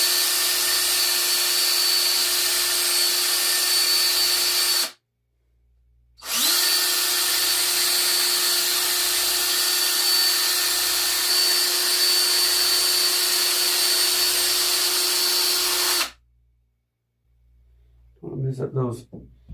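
A power tool fitted with a medium grit abrasive grinds metal on a 351 Windsor engine during a budget rebuild, giving a steady close-up whine in two long runs separated by a brief stop, then falling silent before a short burst of talk.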